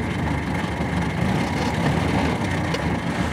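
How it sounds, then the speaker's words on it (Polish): A Polski Fiat 508 engine runs steadily at raised revs, a continuous low rumble with a mid-range buzz, close and fairly quiet, with no one speaking. "Podniosę trochę obroty."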